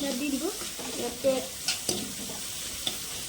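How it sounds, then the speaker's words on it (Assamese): Boiled chickpeas fry in a pan for pulao, giving a soft, low hiss. A few sharp clicks and scrapes of stirring stand out at intervals, and a brief warbling tone sounds near the start. "এতিয়া বুটখিনি ইয়াত ভাজি লওঁ"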